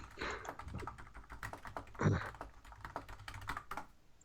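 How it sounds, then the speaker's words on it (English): Rapid, steady clicking of fast typing on a computer keyboard, close up, with no voices. "You hear that fast typing, man?"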